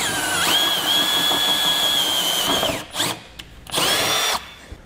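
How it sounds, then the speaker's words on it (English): A power drill whines at a steady high pitch for a couple of seconds while drilling a mounting hole for running boards on a pickup truck, stops with a few clunks, then spins up briefly again. "we're going to have to drill a hole."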